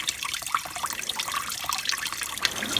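Coolant drains from the radiator of a 1993 Chevy Lumina APV in a steady splashing trickle, close and continuous, with small drips breaking through the flow.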